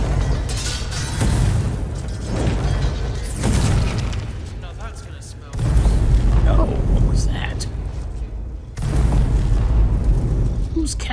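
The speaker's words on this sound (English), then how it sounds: "Casting those fire bolts" Fire bolt spells cast in Skyrim land as a series of heavy, booming bursts, three or four loud blasts separated by pauses, each trailing off into a rumbling fade.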